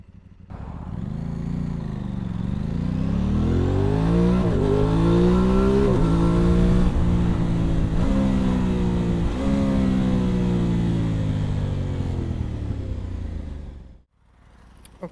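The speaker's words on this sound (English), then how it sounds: "just wanted to give you a rev test" A 2022 Aprilia Tuono 660 Factory motorcycle engine revs up from idle, its note rising, holding high and easing off in long sweeps, loud and close with no other sounds, before cutting off at the end.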